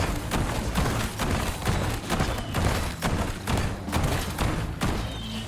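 Rapid heavy blasts from the Olympia shotgun in Black Ops 6 Zombies, a dense run of thumping shots at a fast, slightly uneven rhythm, loud and close, mixed with game effects.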